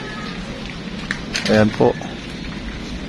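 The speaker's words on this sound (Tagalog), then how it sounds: "Yan po yung senaryo po sa amin, araw-araw umuulan." Steady rain falls in Bicol under an overcast sky, a continuous soft hiss throughout, with a person briefly speaking near the middle.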